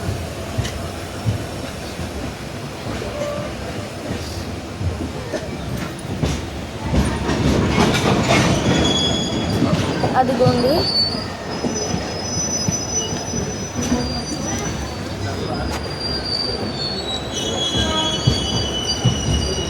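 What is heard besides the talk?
cargo train passing, Indian Railways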